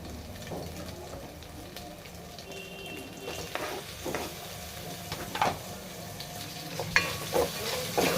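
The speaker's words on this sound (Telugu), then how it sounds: "ఇప్పుడు ముందుగా కట్ చేసి పెట్టుకున్న టమాటాలు ఇందులో వేసుకోవాలి" Chopped tomatoes are tipped into ginger-garlic paste frying in a pan, giving a soft, steady sizzle with scattered scrapes and knocks of a spoon stirring, fairly quiet and close, with no voices.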